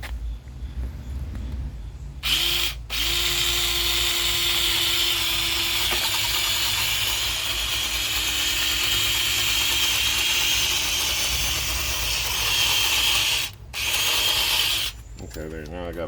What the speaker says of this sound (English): I like this little long drill bit.